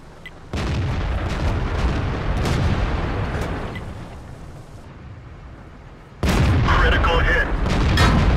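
Tank cannon fire in World of Tanks on the Siegfried Line map, from a Type 59 tank: loud, heavy booms with a long rumbling tail, a second blast arriving near the end, while voices talk over the battle.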